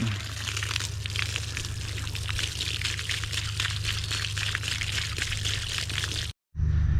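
Water poured and running over a hat to rinse out soap, a steady splashing flow with a low hum beneath, close and continuous, briefly cutting out near the end.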